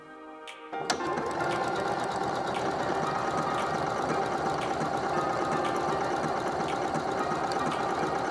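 Elna sewing machine stitching a jersey buttonhole, starting abruptly after a brief pause and then running at a steady, loud, continuous buzzing whir with rapid needle ticks throughout.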